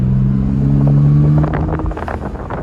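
A car drives steadily with a low engine drone that drops as the transmission shifts gear, followed by rougher rumbling and road noise close to the microphone.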